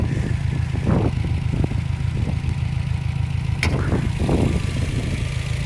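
A Subaru STI with the EJ engine idles steadily, a close, continuous low rumble that holds even throughout, with a few faint clicks and rattles over it and no talking.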